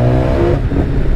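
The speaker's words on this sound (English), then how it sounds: "this four cylinder, it's really starting to pull above the 6-7 thousand." BMW S1000XR four-cylinder motorcycle engine fitted with an Akrapovic exhaust, a loud, steady close-up drone with a strong harmonic growl that holds through the moment without a pause.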